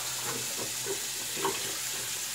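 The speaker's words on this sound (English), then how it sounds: "let's rinse and then cold water rinse" Cold water runs from a tap during a rinse while shaving, a steady close hiss and splatter that is constant through the short clip, with no talk.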